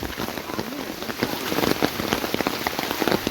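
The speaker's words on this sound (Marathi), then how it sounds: "भरपूर पाऊस पडतो ना" Heavy rain pours down at night in the Konkan countryside, a loud, dense and steady hiss of falling water with close drops spattering throughout, no voices.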